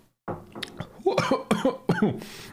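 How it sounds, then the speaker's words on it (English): A run of several harsh coughs up close, coming in quick bursts with short gaps between them, with a brief exhale before the first. "I already was coughing before."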